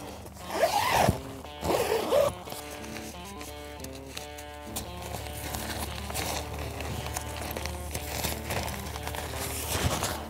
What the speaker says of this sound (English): pull the zippers up